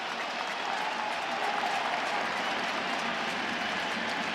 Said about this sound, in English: Crowd urges him on as he deals 0-2.